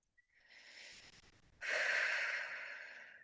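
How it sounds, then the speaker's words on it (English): Slow breathing during a guided grounding meditation: a soft inhale builds gently, then a louder, fuller exhale with a snorting, airy rush that tapers off, close and alone with no talk. "And breathing."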